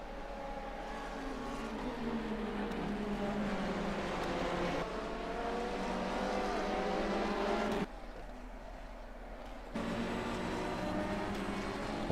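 Ferrari race cars roar around Road Atlanta in a racing video game, a steady, fairly quiet engine drone with shifting pitch that drops abruptly for a couple of seconds before resuming.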